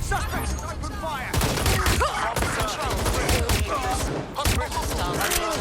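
Gunfire in Watch Dogs Legion, a dense and chaotic exchange of rapid shots, cracks and impacts with voices shouting over the top throughout.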